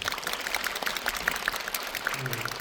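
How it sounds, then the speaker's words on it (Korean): A theater audience applauds the director at a film screening talk, soft and fairly distant clapping with scattered sharper claps and a faint voice briefly underneath. "아주 큰 도전을 무사하고 아름답게 마치신 감독님께 박수 한번 부탁드리겠습니다"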